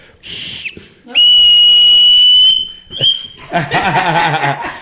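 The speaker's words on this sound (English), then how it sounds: "So we got our whistles here." A shrill whistle blows one long, loud steady blast after a short earlier toot, followed by a brief chirp and then lively chatter and background voices.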